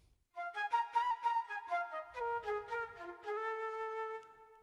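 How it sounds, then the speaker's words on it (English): A guitar synthesizer voiced as a flute plays a soft, breathy melodic line of short and held notes, a quick run followed by longer sustained tones, with a faint low rumble underneath midway and no talk. "I'm going to play some flute that will sound like this."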